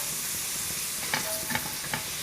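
Green peas cook over a full, high flame in a pan for Chinese-style egg fried rice, giving a steady loud sizzle broken by a few sharp scraping stirs near the end.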